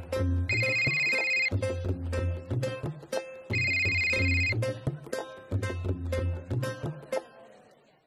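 An unanswered phone ringtone from a Marathi TV serial scene repeats in two loud, insistent bursts with a steady electronic melody, then fades out near the end, with no talking.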